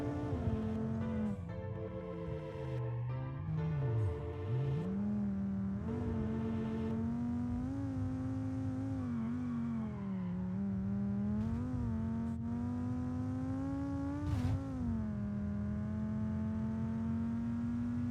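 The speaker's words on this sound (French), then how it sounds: "On va cracher cette jolie voiture." Video-game car engine in BeamNG.drive droning and revving steadily, pitch rising and falling as it accelerates, loud and continuous with no talk.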